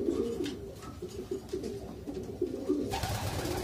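A racing pigeon near its nest gives low, throaty cooing in a steady repeating pattern, close and moderately loud, with a faint hiss of background noise.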